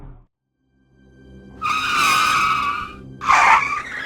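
A truck's trailer skids on a wet road in Iowa City, with a loud, close tire squeal rising over engine rumble, a brief pause, then a second sharp screech.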